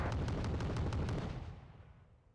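Mortar fire in a card battle video game: a quick string of thudding shots over a low rumble, fairly faint, fading out over the last second.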